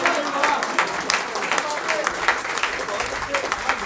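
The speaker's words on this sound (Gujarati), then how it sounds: "પણ તાળીઓ પાડીએ એકવાર" An audience at a Gujarati poetry and music programme on the Kala Manch stage breaks into sustained applause, a full, even rush of clapping close by that carries on for several seconds with some voices under it.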